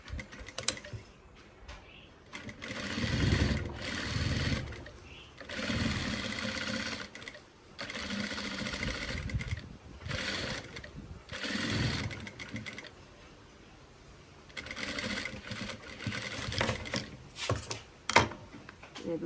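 A sewing machine stitching a gown, its motor whirring in several bursts of a few seconds each, separated by quiet pauses, at close range and moderate loudness.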